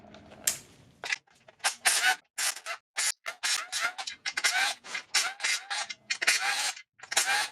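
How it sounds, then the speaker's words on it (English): Removing the 10 mm oil pan bolts from a 2008 Acura MDX engine: a rapid, uneven series of close ratchet clicks and metallic tool bursts separated by short pauses. "I'm going to start removing the oil pan bolts. There are 18 of them. They're all 10 millimeters."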